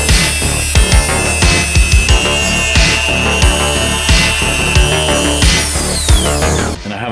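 A power tool cuts a section out of a Losi Baja Rey RC truck axle, a loud, continuous grinding whine with repeated bursts and thumps as the cut proceeds.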